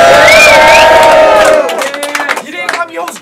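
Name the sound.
crowd cheering at a rap battle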